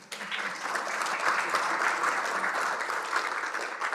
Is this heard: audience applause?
yes